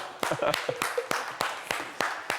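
A studio audience on a local TV talk show claps in an even, rhythmic beat of sharp, close hand claps, with voices talking faintly underneath.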